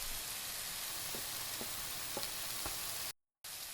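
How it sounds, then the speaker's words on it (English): Ground turkey with paprika and taco seasoning frying in a pan, a steady low sizzle throughout with a few soft stirring clicks and a brief dropout near the end. "Time to cook your turkey."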